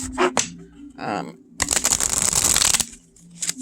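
An oracle card deck with good cardstock is riffled and shuffled in a few short rustling bursts, with one long, dense flurry of card noise at close range and brief pauses in between.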